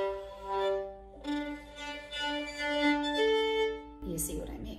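A bowed violin played with a crooked bow produces sustained notes that sound uneven and scratchy, ending in a burst of harsh bow noise.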